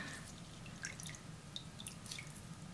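Excess water drips from squeezed seed paper pulp, a soft run of small drips and trickles close by, steady and faint throughout.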